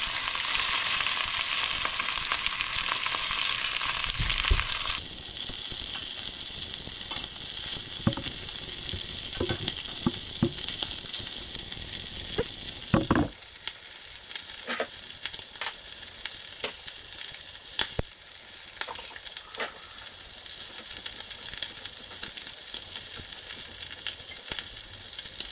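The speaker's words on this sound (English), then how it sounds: "I fry for about 2 to 3 minutes." Lobster stir fries in a hot pan with a loud continuous sizzle and repeated scraping stirs and clatters, the hiss easing partway through, close up with no talking.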